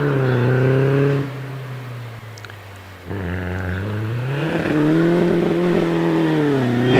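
A vintage sports car, a Riley Special, climbs the Prescott hill climb course with a loud engine note that rises through the gears, dips briefly at a shift, then pulls hard again toward the finish, with no one talking.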